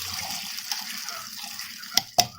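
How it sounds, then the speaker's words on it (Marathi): Water poured into a pan while cooking a Khandeshi-style ridge gourd bhaji gives a faint, quiet trickle, with two sharp clicks near the end. "थोडंसं पाणी घालून घेऊ."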